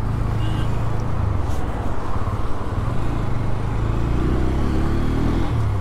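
A steady engine rumble from a Bajaj Pulsar N125 motorcycle riding in third gear on a highway in Pune mixes with loud road and wind noise, with traffic droning around it the whole time.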